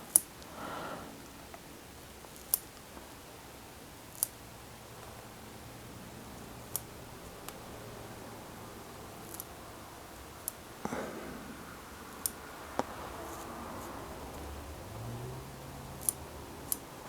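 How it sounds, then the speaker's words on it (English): Curved scissors trim fly-tying material for a Letort Hopper trout fly, making faint, crisp snips every second or two against a quiet room background. "Grab the curved scissors, just kind of go around here."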